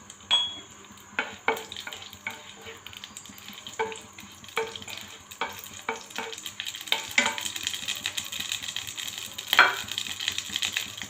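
Chilies frying in a small amount of oil for amra (hog plum) pickle, a steady sizzle with repeated stirring clatters and scrapes, growing busier and louder toward the end, with no talking.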